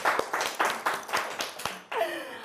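Studio audience clapping for a cooking show host, a run of loud, evenly spaced claps up close, then a voice starts talking.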